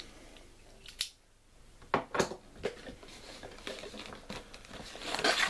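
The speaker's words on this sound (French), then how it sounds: "Donc, on va couper les scotch." Several short scraping cuts and crackly rips as a utility knife slices through packing tape on a LEGO box, spaced irregularly with a brief quiet gap, close up.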